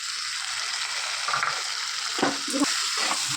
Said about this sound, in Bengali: এই যে ভাজা চিংড়ি মাছগুলো দিয়ে নেবো এর মধ্যে